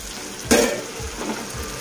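Chicken and cucumber curry cooks in a pan, with a short loud sizzle and stirring burst that eases into a steady low frying hiss with faint scraping.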